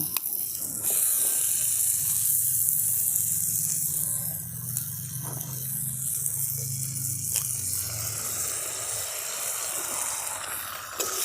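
Loud, steady sizzling of an egg frying with vegetables in a hot pan, a continuous hiss with occasional faint scraping, no voices.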